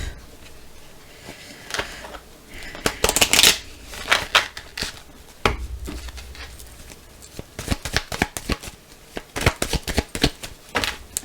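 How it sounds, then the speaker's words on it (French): Someone shuffles and cuts a deck of oracle cards at close range, with soft riffling and sharp slaps and flicks of card on card in uneven bursts. No one speaks. "On va faire une coupe."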